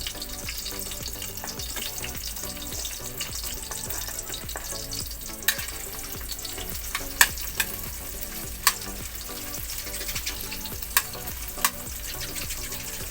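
Onions frying in a wok over an outdoor wood fire, a steady dense sizzle running throughout with occasional sharp pops and crackles from the fire standing out above it, no voices.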